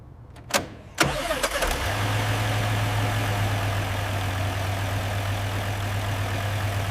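An old Mercedes-Benz motorhome engine cranks with a few sharp clicks and catches, then settles into a steady, low idle that runs on alone at moderate level.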